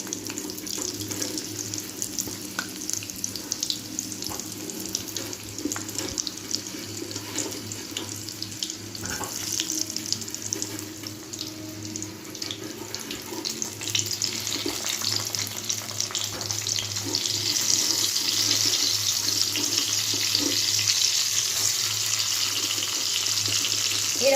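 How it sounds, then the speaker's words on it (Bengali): Pointed gourds (potol) frying lightly in oil in a pan, a steady hissing sizzle that builds louder toward the end, close and continuous with no talking. "আমি এবার তেলে দিয়েছি হালকা করে আমি এবার পটলগুলোকে ফ্রাই করে নিচ্ছি"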